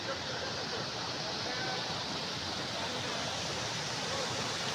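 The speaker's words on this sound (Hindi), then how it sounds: "वाटरफॉल।" Chapalgadi waterfall in Jambani, Kaptipada, Mayurabhanj, Odisha, roars as a steady, dense wash of falling water that holds constant and close throughout, with no pauses or other sounds.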